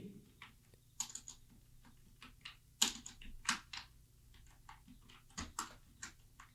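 Computer keyboard typing a title for a monthly production report in an MS Excel sheet: quick, light key taps in short uneven bursts with a few louder clicks, close and quiet, with no talking.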